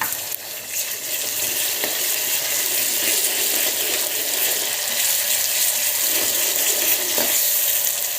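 Onion and masala paste frying in a pan for spicy khichdi, a continuous dense sizzle with occasional faint stirring scrapes, steady and close.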